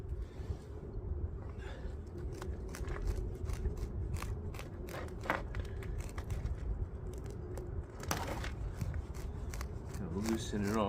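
Soil is raked out of the root ball of a Thuja bonsai being repotted: quick dry scratching and gritty clicks come in irregular bursts, close up, with a louder scrape near the end.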